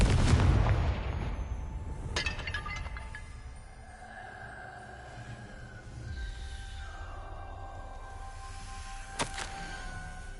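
A Confringo blasting spell goes off in the Hogwarts Legacy video game: a loud burst at the start decays into a low rumble, followed by shimmering magical tones and a sharp crack near the end.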